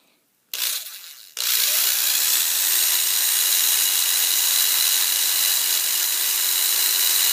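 Thin cloth sandpaper chamfers the edge of a finger hole on a shakuhachi, giving a steady, close, bright abrasive hiss that starts after a short rasp and carries on evenly without talk.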